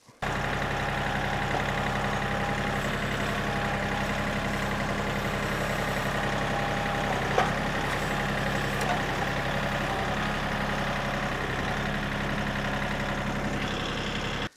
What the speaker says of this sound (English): I'm gonna pick it up with the tractor